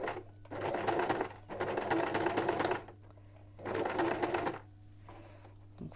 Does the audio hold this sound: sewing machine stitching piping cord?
yes